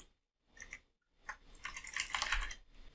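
Python code being typed on a computer keyboard: a few isolated key clicks, a short pause, then a dense flurry of close, crisp keystrokes, no talking.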